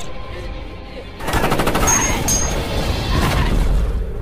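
Sustained machine gun fire in a horror film, a dense rapid burst of loud shots aimed at a monster, rattling continuously over a rumbling low background.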